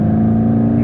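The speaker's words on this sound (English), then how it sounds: "the first thing that happens when you change to sport mode that you notice is the engine sound" Diesel engine of a 2021 VW Golf 8 GTD in sport mode, a steady low drone with a strong harmonic hum, heard from inside the car at a constant pitch for under a second.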